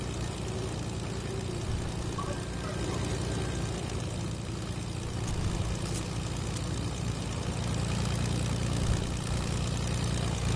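Steady propeller airplane engine drone from the video game Fortnite, a continuous broadband hum holding level and fairly loud throughout with no talk over it.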